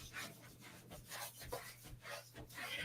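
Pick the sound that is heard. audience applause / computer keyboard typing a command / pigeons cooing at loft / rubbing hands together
rubbing hands together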